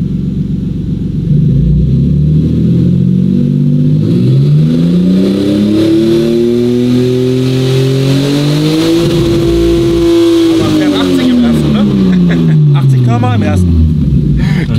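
A Toyota 2JZ engine with no exhaust fitted revs loudly and close, its pitch sweeping up, holding near the top, then falling back, a raw continuous rumble with some chatter over it.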